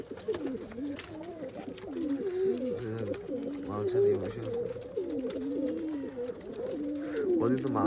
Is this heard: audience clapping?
no